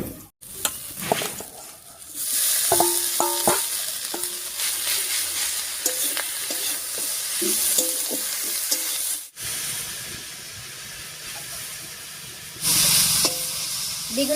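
Pumpkin greens sizzle loudly in a pan with brinjal, a dense steady hiss broken by repeated spatula scrapes and stirring clatter, briefly cut off once before the frying noise resumes.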